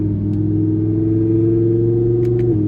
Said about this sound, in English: V10, I don't know if this exhaust is stock or not. I want to say it's not, but I love the sound of it.